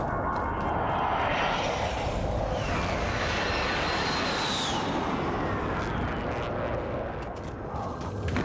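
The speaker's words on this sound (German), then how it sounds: "Feindliche Drohne über uns." An enemy drone in Call of Duty: Warzone flies overhead with a loud, continuous engine drone that swells and shifts in pitch as it passes, filling the scene for several seconds.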